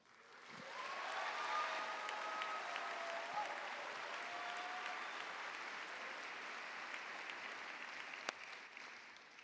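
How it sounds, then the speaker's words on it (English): A large audience at The Paramount Theatre in Seattle claps steadily in sustained applause, heard at a distance, with a faint voice rising briefly above it. "Can we please get another round of applause for Dallas Goldtooth?"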